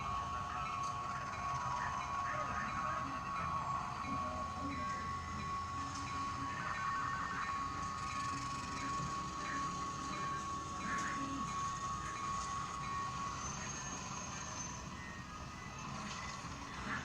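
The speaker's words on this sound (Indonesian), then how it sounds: "Kereta api Probowangi saat ini telah tiba di stasiun Sidoarjo." The Probowangi passenger train arriving at Sidoarjo station rumbles steadily with a sustained high wheel squeal for much of the time, the heavy rolling noise continuous and close.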